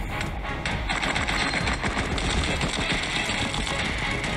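Rapid automatic gunfire from the mobile shooter game Cover Fire, a dense continuous burst of shots running nearly the whole time at steady loudness, with a voice faintly under it.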